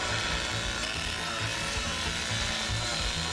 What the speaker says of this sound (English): I overheated my chainsaw